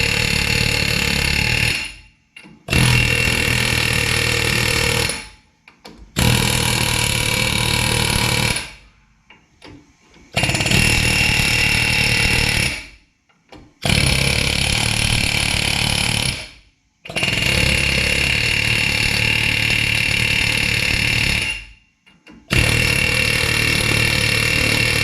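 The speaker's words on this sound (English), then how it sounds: "what I've got is my air hammer with a flat tool" An air hammer fitted with a flat tool pounds a stuck brake rotor in loud, close, rattling bursts of several seconds each, about six in all, separated by short silent pauses.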